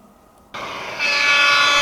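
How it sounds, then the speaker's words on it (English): A Bachmann model train of five weathered Mk1 coaches in Network SouthEast livery runs on a layout, starting abruptly from silence into a steady, loud whirring rumble with a rising motor hum that sounds close to the track. "we're going to take a look at these two coaches as part of this 5-carriage train that's running"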